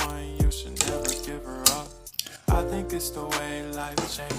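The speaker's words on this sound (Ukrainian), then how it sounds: "все розмішуємо" A spoon stirs elderberry kvass in a metal pot, giving ringing metallic scrapes and clinks against the pot's side, with two sharper knocks and a steady swirling rhythm close by.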